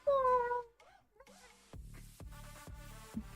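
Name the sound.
person imitating a hungry cat's meowing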